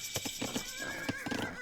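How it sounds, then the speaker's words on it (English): A Hunnic horse in the Age of Empires video game whinnies, and its neigh is layered over clattering hoof clip-clops and other game battle sounds, with soft speech underneath. "The Hunnic horse took a little damage."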